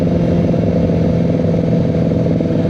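A Kawasaki ZX motorcycle engine idles and revs while warming up on a Sunday morning ride, a loud, steady, continuous mechanical drone close by with no talk.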